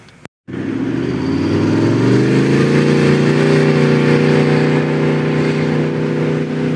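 A four-wheel-drive car on a beach track near Albany, Western Australia, gives a loud, close engine drone that climbs after a brief cutout and then holds steady under load, with no voices.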